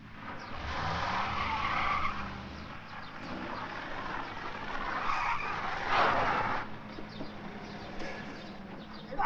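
Cars skidding and drifting on their own, kicking up dust, in an Egyptian comedy film scene: a sustained broadband tire screech and engine roar with a louder surge midway, continuous for about nine seconds with no talk.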